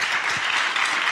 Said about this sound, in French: On peut applaudir Laïla, d'ailleurs, qui a bien travaillé.